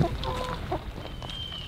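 Chickens clucking faintly in a farm pen, low scattered calls mixed into a busy background with a person talking nearby.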